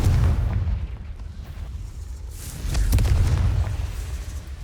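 A Confringo spell explodes in the video game Hogwarts Legacy inside a spider-filled cave maze, with deep booming blasts and rumbles that surge twice and include a sharp crack partway through, with no voices.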